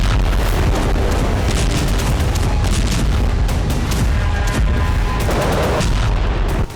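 Loud, dense blasts and rapid gunfire-like bangs in Russia–Ukraine war fighting on Russian soil near Kursk, continuous and booming throughout with no quiet gaps.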